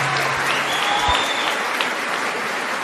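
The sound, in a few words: applause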